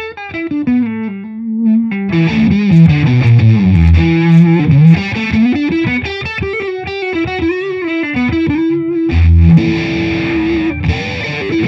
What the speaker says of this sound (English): we throw in a phaser pedal in front of that drive pedal now